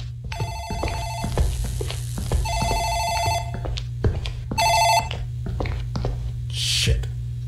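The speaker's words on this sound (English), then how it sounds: "I think that's the phone in the office ringing." An office telephone rings inside a video game, sounding in repeated electronic trilling bursts over a steady low hum, with thuds and footstep-like knocks between the rings.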